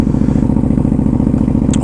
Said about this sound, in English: So yeah, this is my 2017 Super Duke.